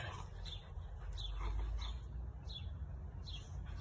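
Two dogs squabble over a bone, with low growls and short whimpering yelps repeating through steady background noise at moderate distance; the scuffle is outdoors near a person.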